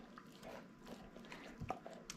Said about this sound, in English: She's over there eating beef bone.